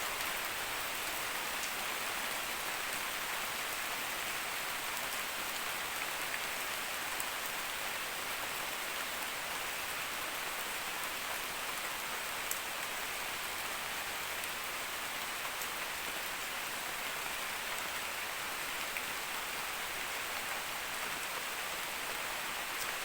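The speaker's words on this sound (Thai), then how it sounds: "ก็พยายามที่จะเอาภาพ ที่ฝนกำลังตกปล่อยๆนะครับ มาให้เพื่อนๆได้ดูกัน" Steady, dense rain pours down during the southern Thai rainy season, a continuous even hiss lasting throughout with no voices and no breaks.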